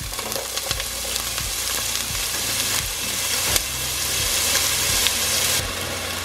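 Frozen onion fries in olive oil with a loud, steady sizzle. A low, rhythmic hum and periodic thumps run beneath it.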